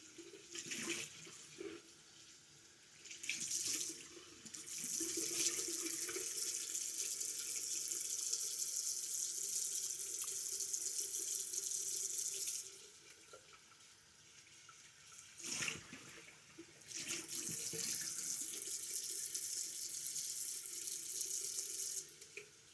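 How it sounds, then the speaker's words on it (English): Water running from a sink tap, a steady rushing hiss that pauses briefly a few times, including one longer break midway, as if hands or a face are being rinsed, fairly quiet and close. "I got the water running"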